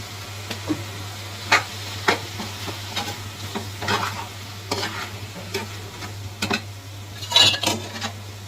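Tomatoes and salt sauté in a pan, a low sizzle under frequent scraping and clinking of a metal spoon against the pan, close and fairly loud, with a steady low hum underneath and no speech.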